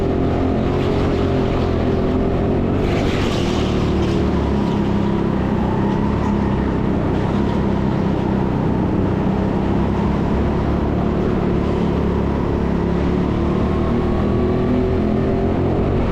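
Go-kart engines racing on an indoor Sheffield TeamSport karting track during a Grid Series sprint race, a steady droning whine with rising and falling pitch as karts draw alongside up a ramp, loud and continuous without talk.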